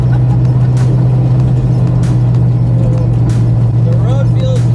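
A reborn 1970 Porsche 917 race car on the road, heard from inside as a loud, steady low engine drone with road rumble throughout and a voice speaking over it.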